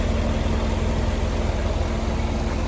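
A 2016 Jaguar F-Type R convertible, all-wheel drive with a 5.0 liter V8 and dual exhaust with quad exits, idles with a steady, loud, deep burble that holds even throughout.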